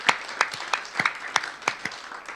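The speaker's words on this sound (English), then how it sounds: "get one more round of applause for our panel" A sparse round of applause from a small audience at a higher education committee hearing after a faculty panel, with scattered individual claps in an uneven rhythm, moderately close and fairly quiet.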